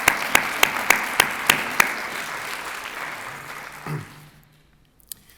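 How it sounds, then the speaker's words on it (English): Audience applause for rabbis at a community legacy celebration, a few sharp claps first, then a dense burst of clapping from a crowd that thins out, fades and ends with one stray clap. "Let's give a big round of applause for the rabbis."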